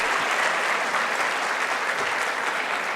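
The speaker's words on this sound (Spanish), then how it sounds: "Muchísimas gracias a Saskia, realmente creo que se merece otro aplauso" Steady, dense applause from a sizable audience fills the whole stretch without pause, loud and even.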